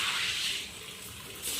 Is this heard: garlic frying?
no